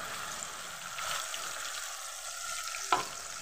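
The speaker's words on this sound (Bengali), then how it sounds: "জিরেটা একটুখানি নেড়ে দেবো।" Cumin frying in hot oil and being stirred, a faint continuous sizzle with one brief clink of the spoon near the end.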